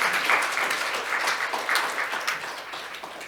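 Applause from an audience at a business forum fills the room, a dense, steady wash of clapping that stays loud for a few seconds and eases slightly toward the end.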